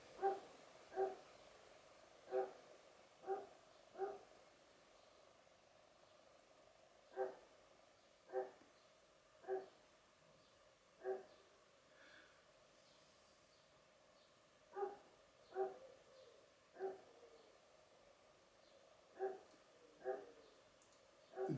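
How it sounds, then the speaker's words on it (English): A dog barks in regular clusters of two to four sharp, resonant woofs separated by quiet gaps, heard at a moderate distance, as if from upstairs or elsewhere in the house. "The dog is barking a lot."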